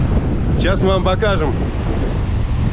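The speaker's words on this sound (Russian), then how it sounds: "ветер только усиливается" Strong wind buffets the microphone on Bavaro beach in Punta Cana, Dominican Republic, a steady broadband roar with ocean surf beneath, while a person speaks briefly over it.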